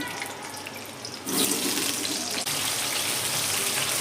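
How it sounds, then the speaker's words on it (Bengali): Chicken pieces and potatoes drop into hot oil, bursting into a loud, steady sizzle that continues close by. "এবার দেখুন এখানে আমি এবার মাংস আলুগুলো তেলে ছেড়ে দিলাম"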